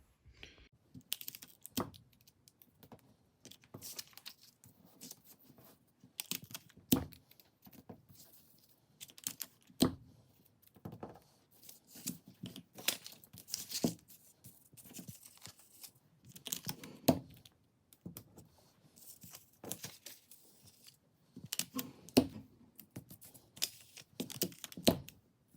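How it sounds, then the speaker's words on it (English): Sticky tape torn from a roll and pressed onto paper model pieces, giving repeated sharp rips and crackles in irregular bursts, fairly close and quiet, with no speech. "I'll show you a quick clip of me taping them together."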